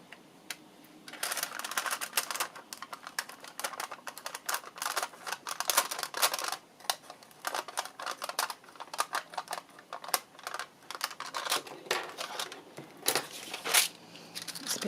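Paper trimmed along its edge for a card-making project, a close series of quick crisp snips and clicks in uneven bursts, with no talking.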